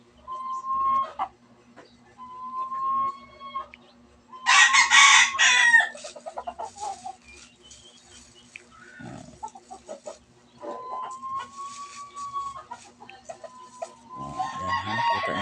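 A pet rooster crows several times, long tonal calls rising and falling, with a burst of loud clucking and squawking in between; close and clear, no talking.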